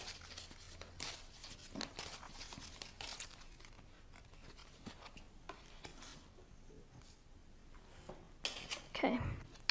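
Oracle cards being shuffled and handled, with soft crinkling, rubbing and light tapping sounds close by, continuing steadily and finishing with a sharper flurry.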